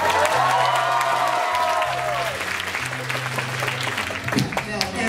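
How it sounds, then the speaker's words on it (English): Audience applause fills the room at a rap battle event, a dense, sustained wash of clapping heard up close, with musical tones and a voice running beneath it. "That's a thunderous applause."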